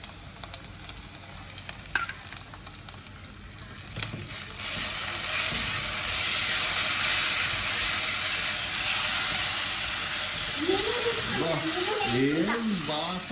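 Onions fry in a pan with ginger paste added, a loud steady sizzle rising around four seconds in and holding broad and close, with a voice speaking over the cooking toward the end.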